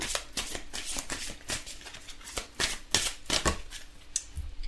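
Oracle cards shuffled by hand for a tarot-style reading, a quick run of crisp riffling flicks and slaps, close and fairly loud, with no talking.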